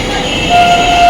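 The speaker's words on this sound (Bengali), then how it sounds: "ট্রেনের আওয়াজ শুনতে পাচ্ছেন" A train near Dakshineswar station in Baranagar, with a brief low rumble and a steady horn-like tone that starts halfway through and holds to the end, fairly loud and close.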